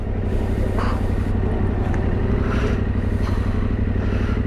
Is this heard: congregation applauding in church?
no